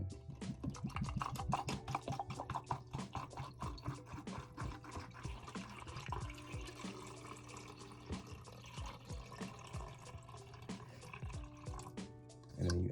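Stabilizer solution for medium format film is poured into a developing tank, a steady trickling fill with small drips and splashes lasting several seconds over a low constant hum, ending with a brief bump.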